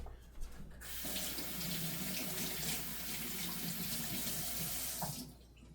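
A kitchen tap runs steadily into the sink while scallions are rinsed under the stream, a close, even rush of water that starts and stops abruptly.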